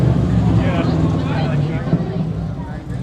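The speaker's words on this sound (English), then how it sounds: "So I think that was just one motorcycle." A passing motorcycle engine drones steadily in the background at an American Legion baseball game while a voice talks over it.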